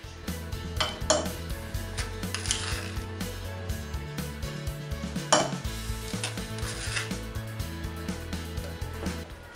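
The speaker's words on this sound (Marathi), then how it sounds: "त्याच्यामध्ये सर्व मिश्रण गाळून घ्या" A kokum and coconut mixture is strained through a sieve, and close metallic clinks and scrapes of utensils against a vessel recur irregularly over a steady low kitchen hum.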